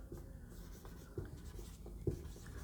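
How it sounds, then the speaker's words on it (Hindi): Faint scratching of writing on a board during a physics lesson, soft strokes with a few sharper taps against a quiet room hum, no speech. "मैं यहाँ पे लिख रहा हूँ टाइम ऑफ फ्लाइट।"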